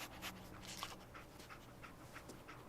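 The companion dog Dogmeat in the video game Fallout 4 pants in quick, soft breaths, close but quiet, over a faint steady game ambience.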